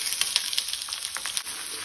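Finely chopped onion frying in two spoons of hot oil in a pan on a gas flame: a bright, continuous sizzle with small crackles and pops, close and steady.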